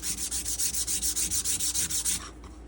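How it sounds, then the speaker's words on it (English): Wood is rubbed with 240 grit sandpaper in about a dozen steady, close back-and-forth strokes, each a rasping swish, before the sanding stops abruptly. "got it sanded down to 240 grit"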